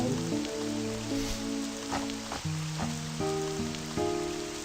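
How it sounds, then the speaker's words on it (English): Rain in the video game Land of Dreams forms a soft, steady patter beneath louder game music, whose stepping melody dominates, with no talk. "And it's a rain."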